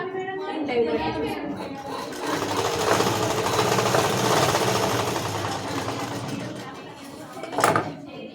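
A tailoring sewing machine runs steadily and close while stitching fabric pleats, a continuous mechanical whirr lasting several seconds, with a person talking over it.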